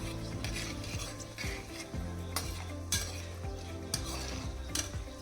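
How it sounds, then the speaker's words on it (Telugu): Whole biryani spices sizzling and frying in hot oil in a pan, with steady crackling sizzle, a stirring spoon scraping, and occasional metal clinks close up; no talk. "ఆయిల్ హీట్ అయ్యాక బిర్యానీకి కావాల్సిన మసాలా సామాన్లన్నీ ఇందులో వేసుకోవాలి. వేసుకొని కొంచెం వేపుకోవాలి."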